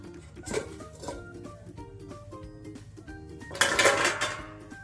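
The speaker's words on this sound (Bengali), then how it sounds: "এই দেখুন ঢাকাটা আমি খুলে নেবো" A metal lid lifted off a pot of vegetable khichuri, with close clanks and clinks of metal cookware, a couple of sharp knocks early and a brighter scraping rattle toward the end.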